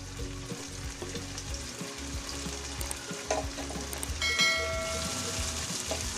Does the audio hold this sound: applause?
no